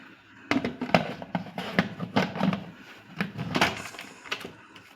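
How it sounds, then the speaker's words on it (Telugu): A cooker pot lid being set in place while making hotel-style chicken curry, heard as a series of close, sharp metallic clanks and knocks, several in quick succession, with no talking. "ఇప్పుడు మన వాటర్ అన్నీ వేసుకున్నాం కదా, మూత పెట్టేసుకోవడమే."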